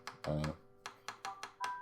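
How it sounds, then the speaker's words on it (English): A mobile phone goes off with a rapid series of short electronic beeps in a quick rhythmic pattern, fairly quiet and close. "my phone's going off"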